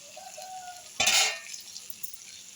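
Fish pieces fry in a pan at home, a quiet steady background with one sudden loud hissing sizzle burst that fades over about half a second.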